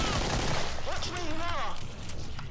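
Rapid bursts of gunfire in the video game Killing Floor crackle through a short moment of play, loud and busy, with a voice speaking over the shots.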